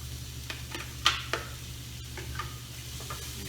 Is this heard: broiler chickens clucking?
no